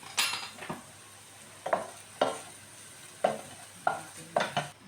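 Chicken for arroz caldo cooking in a pot: a soft sizzle runs underneath while a spoon scrapes and clinks against the pot in about seven separate strokes, close by and with no talk.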